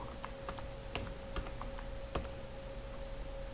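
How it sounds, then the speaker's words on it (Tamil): Typing a town name on a computer keyboard while making ID cards in MS Excel and MS Word: a quiet, irregular patter of key clicks under a steady background hum. "இப்போ ஊர் பேரை டைப் பண்ண போகிறேன்"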